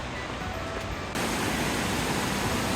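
A waterfall rushes down a gentle mountain slope in Tochigi, Japan, producing a loud, steady roar of broadband water noise that swells louder partway through and holds unbroken to the end.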